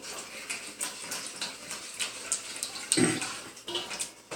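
Warm water is poured to dissolve yeast for pizza dough, a continuous close splashing and trickling with small irregular bursts and one stronger gush partway through.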